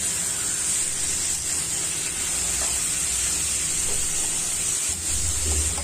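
Cut potatoes and papaya being stirred and fried in a pan with pigeon meat give off a loud, constant sizzle and hiss, close up, with faint scraping from the stirring and no voice.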